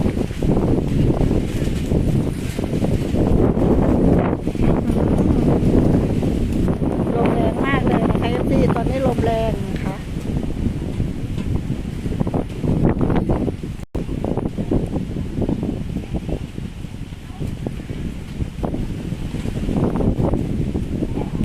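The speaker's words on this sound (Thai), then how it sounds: "ลมก็แรงนะคะ ฝนจะตก" Strong storm wind roars and buffets the microphone continuously outdoors before rain, with someone talking intermittently over the rumbling gusts.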